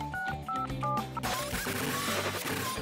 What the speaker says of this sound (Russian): Телефон нового поколения. Смотрите, нажимаем кнопочки.